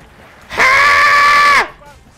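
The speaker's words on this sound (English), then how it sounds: "It's the Mayor Teddy screaming bell." A shrill, sustained scream from a screaming bell in the video game Vermintide 2, rising suddenly and holding steady for about a second before cutting off, loud and alone.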